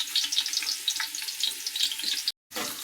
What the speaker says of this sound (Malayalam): ഫസ്റ്റ് ഈ ഉള്ളി ഒന്ന് വാടി വരട്ടെട്ടോ